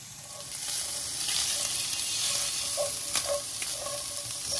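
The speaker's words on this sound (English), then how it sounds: "raw sausage links cooking in with some bacon" Raw sausage links and precooked bacon browning in a pan, a steady close sizzle and crackle with occasional sharper pops and spatters throughout.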